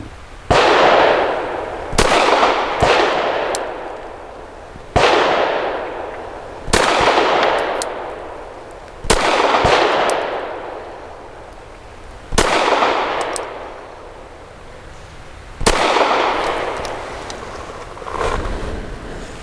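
An Arex Delta X pistol fires Nosler 115 grain ASP rounds at a 7-yard target: roughly nine sharp, loud reports spaced a few seconds apart, each with a ringing decay into the range background.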